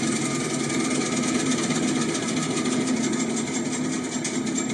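A small tractor engine, not yet warmed up, runs continuously at a steady idle, with a buzzing, slightly rattling tone, close and moderately loud, with no voices.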